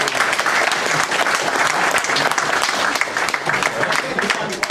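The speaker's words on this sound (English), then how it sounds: "I think another round of applause in order for James," Wedding guests applaud the best man in a sustained, dense burst of clapping that fills the room at steady loudness for the full stretch, with no pause.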